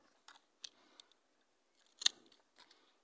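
A knife cuts a pear graft scion: quiet, crisp slicing and snipping clicks come in a few separate bursts, with one sharper cut near the middle and near-silence between them.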